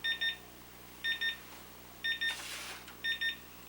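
A kitchen timer alarm beeps in four evenly spaced bursts, each a quick double beep, high-pitched and fairly quiet against a low steady hum, with a brief rush of noise near the end.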